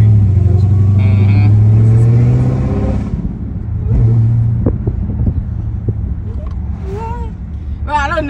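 A Dodge Hellcat with a supercharger rumbles loudly nearby and revs, its deep engine roar carrying a thin whine, while people talk over it.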